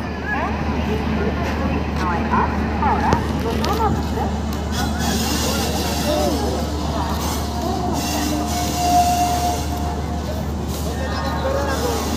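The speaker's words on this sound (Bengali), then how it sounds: "এসে গেছে Howrah Puri express, 2nd class" At a busy station platform, the Howrah Puri Express rolls in with a steady low rumble and rattling wagons, while a crowd murmurs around it and someone talks over the noise.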